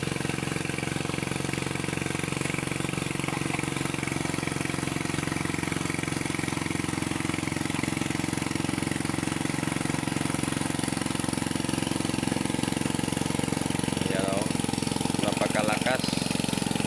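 A steady, loud engine drones on without pause, a constant mechanical rumble with faint chirping higher up near the end.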